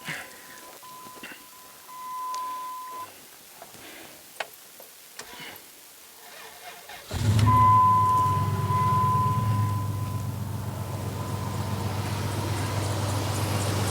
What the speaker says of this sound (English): Okay, I'm going to crank it.